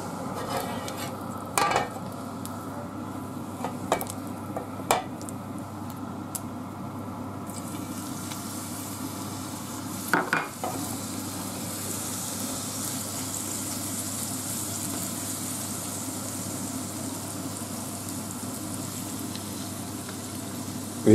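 Garlic dropped into hot oil on a griddle where lacón is cooking sets up a steady, moderate hiss that brightens partway through, with a few scattered utensil clicks and taps over it.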